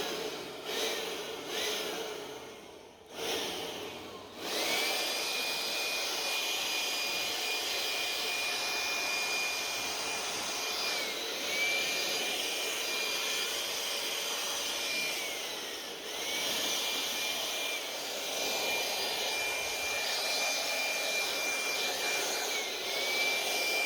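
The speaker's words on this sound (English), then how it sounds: "Ryobi blower has 3 different power settings." A Ryobi leaf blower with three power settings blasts dust out of an old Dell computer outdoors, a loud, steady whining roar with a high tone that holds for about twenty seconds after a few short starts and stops at the beginning.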